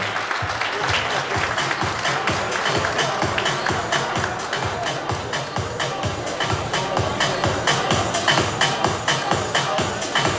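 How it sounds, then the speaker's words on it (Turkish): At an awards ceremony, a large audience claps steadily and vigorously, a dense, even stream of hand claps lasting the whole stretch, fairly loud and close with no break or fade. "Bu süreçte Yural Başkanımızı konuşma yapması için büyük bir alkışla sahneye davet etmek istiyoruz"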